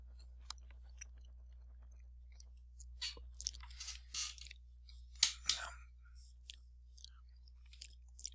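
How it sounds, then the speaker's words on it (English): Person chewing close to the microphone, with quiet crunchy bites and mouth sounds clustering in an irregular rhythm over a low steady hum. "Sorry about the chewing."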